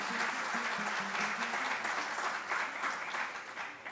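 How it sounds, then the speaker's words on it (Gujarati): An audience at a Gujarati religious katha discourse applauds in a continuous wash of clapping, steady and even, heard at a moderate distance and fairly quiet. "પણ એકવાર આ પરિવારને એટલે કે રાજ અને રવિને બેને તાળીઓથી ખૂબ આશીર્વાદ આપો"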